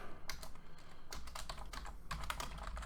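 Rapid typing on a computer keyboard while entering details into a Markdown editor for a journal entry, with steady clustered keystrokes, close and fairly quiet, and no speech.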